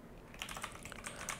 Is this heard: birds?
no